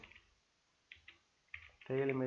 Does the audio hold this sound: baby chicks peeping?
no